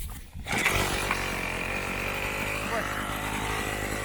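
A Kedr BG-4500 Professional petrol brush cutter, about ten years old, catches after a brief pull and settles into a loud, steady two-stroke drone that continues without a break.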